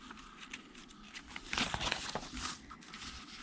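Folded paper, a quarter sheet doubled over, gets creased by hand in crinkly, scraping rubs that swell in the middle and ease off, close up with no voices.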